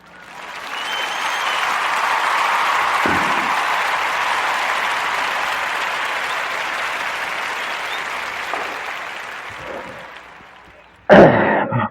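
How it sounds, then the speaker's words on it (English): A podcast audience gives a warm round of applause for a featured tea business, with steady, full clapping that swells in, holds for about ten seconds and tapers, ending with a brief louder burst. "warm narrative podcast round of applause for the Good Thoughts Tea"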